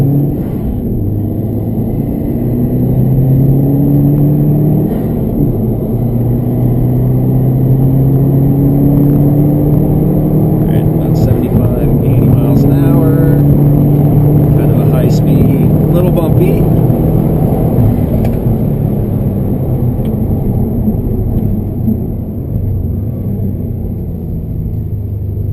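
Cabin sound of a 2016 Subaru WRX STi driven through corners: a loud continuous engine drone with rising and falling pitch sweeps as it accelerates, plus road rumble.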